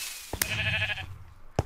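A single wavering bleat from a sheep in Minecraft, clear and fairly close, framed by short clicky game sounds.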